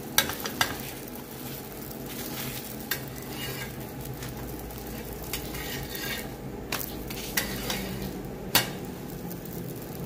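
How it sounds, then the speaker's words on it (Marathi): Parathas cook on a tawa griddle in a busy Kolhapur restaurant kitchen, a continuous sizzle broken by sharp clinks and scrapes of metal utensils against the pan, close and with no talking. "पराठा भाजायला चालू केलेत"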